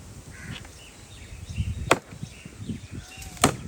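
Axe strikes chopping hard kikar (acacia) wood in a rain-soaked village, two sharp, distinct blows about a second and a half apart, set against faint background rustle and low ambient noise.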